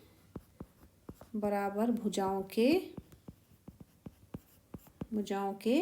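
Chalk or marker taps and scratches on a board during a maths lesson, sharp and close in an irregular rhythm, heard alone at the start and then under someone speaking Hindi.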